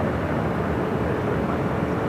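An Emirates Airbus A380 arriving at LAX on Emirates flight 215 from Dubai roars with steady, broadband jet engine noise, loud and continuous, with no talk over it.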